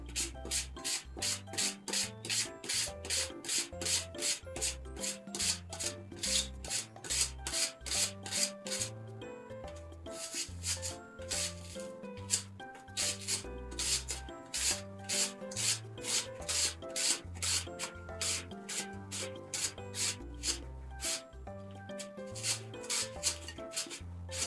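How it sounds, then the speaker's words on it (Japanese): An onion grated by hand on a grater for onion soup, a steady rhythmic rasping of rapid back-and-forth strokes, close and continuous, with a brief pause partway through and no talking. "私切るのも下手なので、おろしていきます"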